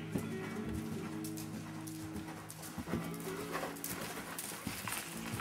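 A horse canters in a riding lesson, hooves thudding in an irregular rhythm at moderate distance, mixed with faint background music and ambient arena noise.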